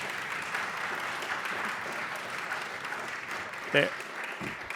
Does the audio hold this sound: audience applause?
yes